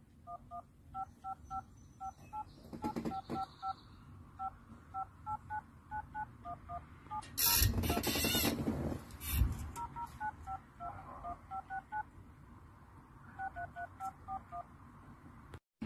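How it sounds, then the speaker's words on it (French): Telephone keypad tones dialing a voicemail number: many short evenly spaced DTMF beeps in quick runs, clear and close, broken by a brief burst of noise midway, with no talking. "je vais rentrer mon numéro de téléphone de répondeur."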